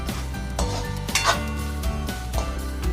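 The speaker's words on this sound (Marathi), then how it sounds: "आपल्याला कांदा स्लो गॅसवरच भाजून घ्यायचा आहे, गोल्डन ब्राउन तरी करायचाच आहे" Sliced onion fries slowly on low heat with ginger-garlic paste in a pan for spicy Amritsari chole, giving a steady soft sizzle, with a spoon scraping and clinking against the pan at intervals.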